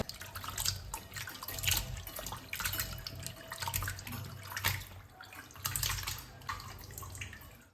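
Tap water runs continuously into a sink as small onions are washed by hand, with uneven splashing and pulsing gurgles under the steady flow.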